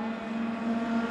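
A racing kart engine in a 2018 TIA Junior class final at Festika Mizunami runs with a steady, even droning hum after being fired up, holding a constant pitch with no talking.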